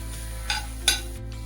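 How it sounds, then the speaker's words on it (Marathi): Fresh grated coconut with coriander and cumin powder is sautéed in a pan during Marathi-style matar karanji preparation, a soft steady sizzle with two brief scraping stirs of a spoon, no voices. "हे व्यवस्थित परतून घ्यायचं आहे."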